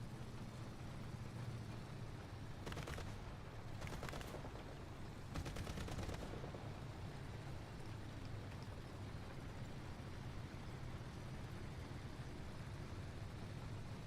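Small tank machine guns fire in War Thunder in several short, faint bursts over a steady engine rumble, with no talk.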